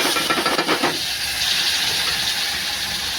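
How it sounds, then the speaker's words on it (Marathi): Ground masala is stirred into a hot pan of crab curry, giving a steady, close sizzling hiss with a few brief scraping bursts at the start. "हे बघ, हे चांगलं ढवळून घ्यायचं."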